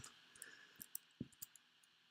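Sparse mouse clicks, faint and close, tapping out an irregular rhythm of about eight quick ticks during play of the stealth strategy game Invisible Inc, with no talk.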